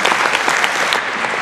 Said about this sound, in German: kleiner Applaus für die Tantchen